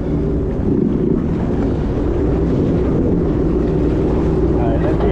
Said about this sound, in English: Waves are getting big, they're throwing me.